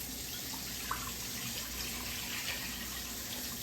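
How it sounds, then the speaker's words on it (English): Water pours steadily into a pot for Puerto Rican yellow rice, a continuous soft splashing rush at low level with no voices. "We'll do 4 cups of water"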